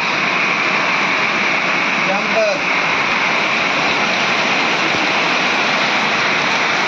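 Rushing water roars steadily and loudly, a broad constant wash of a river in rainy weather with no pauses, briefly touched by a faint voice.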